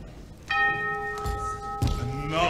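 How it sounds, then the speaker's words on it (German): A monastery gate bell rings in a German-language 1960 Berlin State Opera performance of Verdi's Don Carlos, two clear sustained strikes about a second apart, each leaving a bright ringing tone that hangs over the orchestral background. "der Klosterpforte Glocke erklang"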